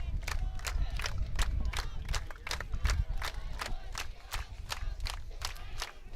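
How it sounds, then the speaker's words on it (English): Football fans in the stands at a high school game, Round Valley Elks versus St. Johns, clapping in a steady rhythmic beat to the fight song, a dense crowd roar and cheering underneath throughout. "They're clapping here in the stands."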